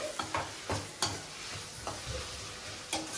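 Chicken fried rice is stir-fried in a pan, with loud crackling sizzle and repeated sharp scrapes and tosses of a spatula at an uneven rhythm, close up.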